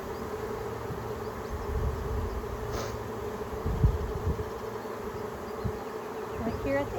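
Honeybees from a newly installed package hum steadily at the hive entrance, a dense close buzzing swarm with a few individual bees droning past the microphone.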